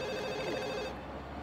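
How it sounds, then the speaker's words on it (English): A telephone rings in The Sims Bustin' Out, a quiet electronic ringing tone that sounds briefly, then cuts off partway through, leaving only soft background game sound. "Nobody answer that phone."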